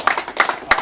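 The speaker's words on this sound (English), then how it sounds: "let's give a big round of applause" A short burst of applause from the audience at a Havoc boxing press conference at Club Bleecker Street in NYC, with clapping rising in quick uneven bursts.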